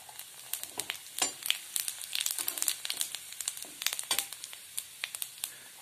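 Cumin seeds, about a spoonful, fry in hot oil in a kadhai with a dense, steady crackle full of sharp pops and sputters. The sizzling is close and continuous for several seconds, with no voices.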